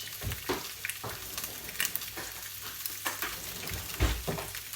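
Bacon fries in a pan while a breakfast muffin is being made, a faint crackling sizzle with scattered pops and a few soft utensil knocks.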